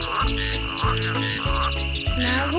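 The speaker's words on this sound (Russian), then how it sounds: "вы квакаете дивно" A frog croaks repeatedly in a rhythmic series of loud, close pulses, set within a cartoon song with musical accompaniment, no talking over it.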